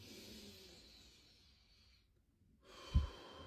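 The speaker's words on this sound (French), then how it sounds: "prenez une profonde et grande inspiration" Deep breath in during a hypnosis session, a soft, airy inhale heard faintly and alone, fading into near silence and ending with a brief low thump.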